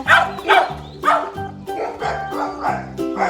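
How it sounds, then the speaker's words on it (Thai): A dog barks repeatedly in quick, rhythmic bursts, loud and close, about seven or eight barks in a row with a whiny, yipping edge. "มันเห่าเร็วมันเห่า"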